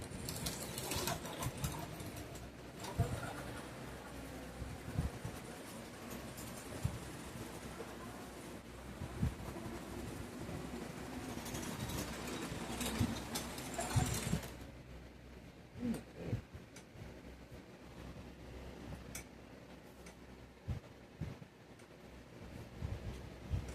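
A vintage 1936-era model train engine runs around its track, a steady mechanical whir and rattle that grows louder, then drops away abruptly as it moves off.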